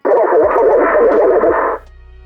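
Engine Grip lightsaber sound font from a Proffie v3.9 board in a custom MHS hilt, a short loud buzzing, crackling burst lasting under two seconds, close to the mic, then dropping to a faint hum.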